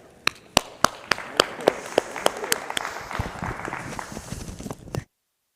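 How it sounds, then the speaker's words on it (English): An audience at a business talk on digital currency applauds: a few sharp, separate claps build into fuller crowd clapping, then the sound cuts off abruptly after about five seconds. "So give a big round of applause"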